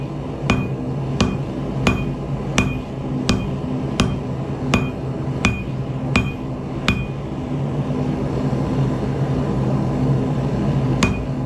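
A hammer strikes hot steel while forging out a file at a forge, a run of sharp ringing blows at an even pace of roughly one per second, then a pause and a single final strike over a steady forge roar.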